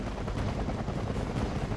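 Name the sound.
Hind helicopter firing at Cobra in video game WarGame AirLand Battle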